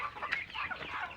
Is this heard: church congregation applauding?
no